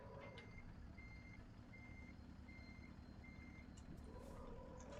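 A truck in a trucking video game gives a steady series of evenly spaced reversing beeps, about five or six, over a constant low engine rumble, with no one talking.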